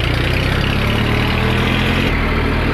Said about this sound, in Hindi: तो गाइस आज लेके आया मैं पुराना वाला ट्रैक्टर